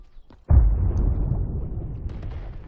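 A grenade explodes in Black Ops 3, a sudden loud boom after a brief quiet, trailing into a rumbling debris decay with a faint pop near the end.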